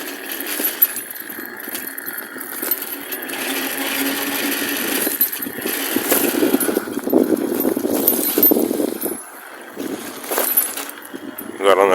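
A faulty e-bike hub motor with broken sensor wires and a slipping axle whirs in uneven, stuttering surges, grinding and clicking with metallic rattles, close by and fairly loud.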